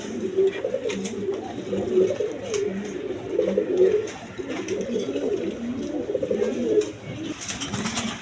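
Rajgolla pigeons, including a grey-coloured male, coo in soft repeated throaty calls close by, a steady rolling murmur running throughout alongside faint background noise.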